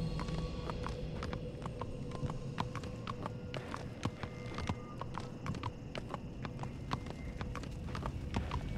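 Horse hooves clip-clopping steadily in The Walking Dead video game, a quick repeated rhythm of sharp hoof strikes over a continuous rumbling background through the whole stretch.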